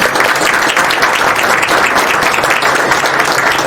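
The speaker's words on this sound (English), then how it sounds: "So let's give them a good round of applause" An audience at a town event gives sustained, loud applause in honor of town leaders, a dense, even wash of clapping that holds steady throughout.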